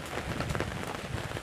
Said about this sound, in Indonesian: Rasanya sungkan kalau mau pulang dalam keadaan hujan-hujanan seperti ini teman-teman ya.